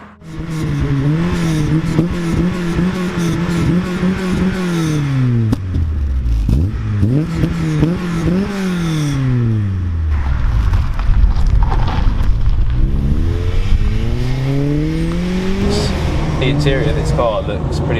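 A 2002 Honda Integra DC5 Type R pulls away and revs up through several gears. Its engine note rises repeatedly, drops at each shift and climbs again, staying loud and close throughout, with occasional voices underneath.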